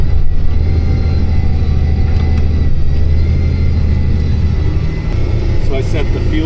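A farm tractor engine at full throttle, around 1560 to 1580 RPM, while applying NH3 anhydrous ammonia in a field: a loud, constant, droning rumble heard from the cab, with someone talking over it.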